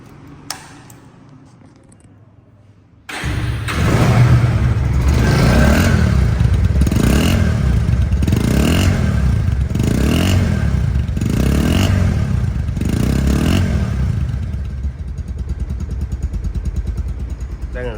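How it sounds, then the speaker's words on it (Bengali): A second-hand Bajaj Pulsar motorcycle in showroom condition starts after a quiet stretch, then idles loudly and steadily with a rhythmic, pulsing thrum and a slight easing near the end. "বাইকটির সাউন্ড কোয়ালিটি শোনাবো এখন"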